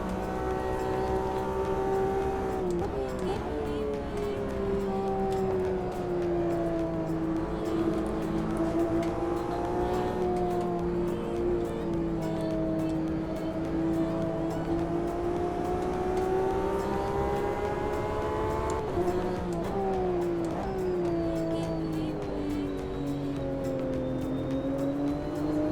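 A race car engine in Automobilista 2 on a rain-soaked track drones continuously, its whining pitch climbing and falling with throttle and gear changes, loud and unbroken with no voices.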